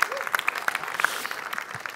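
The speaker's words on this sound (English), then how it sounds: "he deserves the applause" Applause from a conference audience for Peter during a Maven talk, a short burst of scattered, uneven clapping with some crowd noise mixed in.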